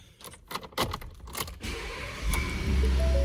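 Switchblade-style keys for a 2018 Ford F-150 XLT being handled, with several close jangles and clicks in quick succession, followed by a steadier low hum.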